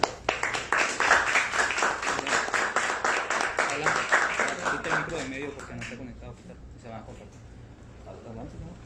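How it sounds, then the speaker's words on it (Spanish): A crowd at an artificial intelligence talk applauds to welcome the guests, a loud sustained wash of clapping that gradually thins and fades, with a voice speaking as it dies down. "Vamos a recibirlos con un fuerte aplauso."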